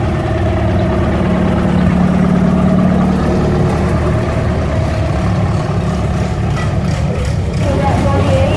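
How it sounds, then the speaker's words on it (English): An antique Farmall M tractor engine runs at an outdoor old gas tractor show, a steady mid-pitched idle and chug coming closer, loud and continuous with a crowd and talk underneath. "Well, here comes a nice Farmall M."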